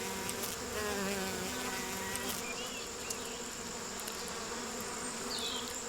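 Bees buzz among ripe pears and other fruit in an autumn mixed orchard, a continuous close hum with individual insects droning past, no voices.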